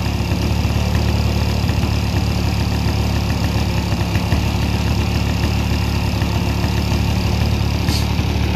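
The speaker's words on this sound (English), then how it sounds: "But this engine's nice and smooth." An EME120 gas engine on a model airplane, fitted with JMB Brecka canisters and headers, idles smoothly and steadily with a buzzing, vibrating drone, close by and constant throughout.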